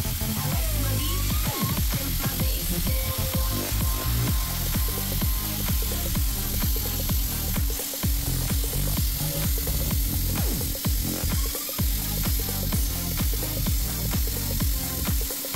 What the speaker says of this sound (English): We're gonna attach the torch and we're gonna cut it.